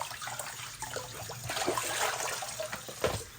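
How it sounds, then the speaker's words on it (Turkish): Running tap water splashes over fish being rinsed in cold water at a home sink, a steady close trickling hiss with small irregular splashes and no voices. "Balıklar iyice yıkansın bir."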